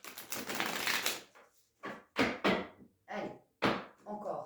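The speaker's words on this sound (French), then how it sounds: "On va bien mélanger les cartes." Playing cards shuffled and riffled in several short, crisp bursts: one longer flurry, then quicker snaps separated by brief pauses, fairly close and soft.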